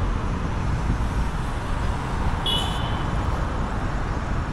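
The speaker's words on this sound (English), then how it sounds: "I have to talk a little louder because of the traffic." Road traffic in Nairobi forms a continuous broadband roar with no breaks, steady and fairly loud, with a brief high electronic beep partway through.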